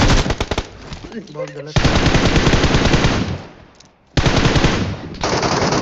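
Bursts of rapid automatic rifle fire in the BGMI battle royale game crack loudly in sustained volleys, broken by a brief lull and a near-silent pause. A voice speaks briefly during a quieter moment.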